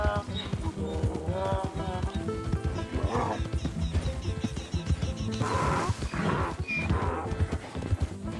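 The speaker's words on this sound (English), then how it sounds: "It's just a donkey" A donkey in the video game Red Dead Redemption 2 brays with loud, harsh, wheezing calls in several bursts, close and mixed with other game sounds.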